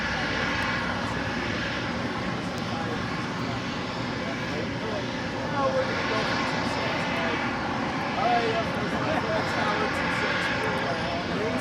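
A Norse Atlantic Boeing 787-9 Dreamliner begins its takeoff roll at LAX with a steady, broad jet engine roar that swells slightly over about twelve seconds. Airport radio chatter and a voice can be heard alongside the engine noise.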